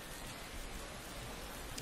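Rain falls steadily in a Motorsport Manager race, a soft even hiss of drops with no distinct events, fairly faint and alone.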